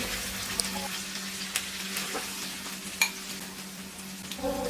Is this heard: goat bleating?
no